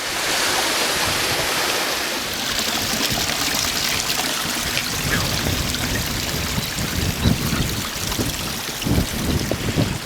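Mountain stream tumbling down Crowden Clough on Kinder Scout in the Peak District, a steady close rush and trickle of water over rocks with splashy bursts, continuous and loud throughout.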